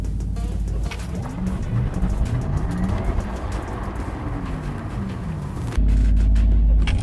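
A Porsche Taycan electric car accelerating hard under launch control, a loud steady rush of motor whine and road and wind noise throughout, rising abruptly louder near the end.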